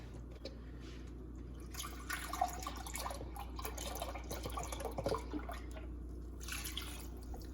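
Chicken broth poured onto uncooked rice in a pot for a jambalaya, giving a steady, close liquid splashing and trickling that lasts several seconds, with no talking.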